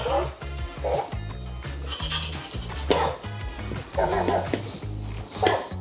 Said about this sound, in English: Hello, Loona. Bark